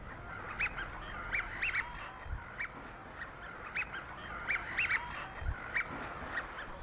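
A flock of wigeon calls with pintail and black-tailed godwits mixed in: repeated clusters of whistling calls arrive in bursts from a moderate distance over steady wind and outdoor ambience.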